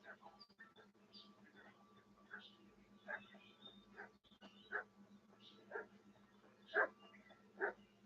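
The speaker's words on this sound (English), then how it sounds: "What's that dog making such a fuss about?" A dog in the video game Kingdom Come: Deliverance 2 barks repeatedly at a distance, several faint, evenly spaced barks over a low steady hum.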